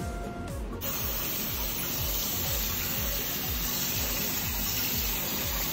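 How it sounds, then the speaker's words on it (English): Running tap water pouring into a pot while rice is washed, a steady close splashing rush that continues throughout, with no talking. "You wash the rice."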